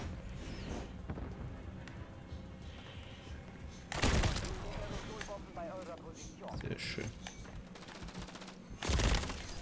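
Gunfire in the video game Call of Duty Modern Warfare 3, with sharp loud bursts near four and nine seconds over a busy, continuous battle soundscape while a player talks.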